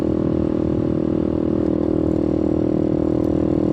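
A rebuilt 2020 Boom Vader motorcycle with a 141 big-bore kit rides in first gear during break-in. Its engine drones steadily and loudly up close, with no talking over it.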